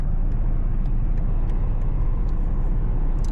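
BMW 7 Series 740i cruising at highway speed, a steady broadband road and engine rumble with wind noise throughout and a few faint clicks.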